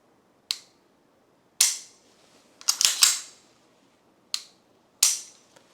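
A Sig Sauer P226 Legion pistol gives off sharp, crisp trigger break and reset clicks, a few single snaps and one quick cluster, close up and loud against near silence.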